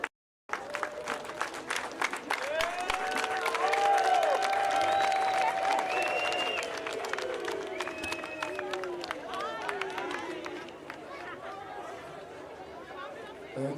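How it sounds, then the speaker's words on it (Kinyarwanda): At an outdoor presidential campaign rally in Ngororero, a crowd claps and ululates to welcome a candidate, with sustained applause, high wavering trills and chatter at a moderate distance. "dukoma amashyi cyane ndetse tuvuza impundu ko bahageze."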